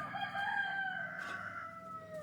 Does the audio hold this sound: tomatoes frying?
no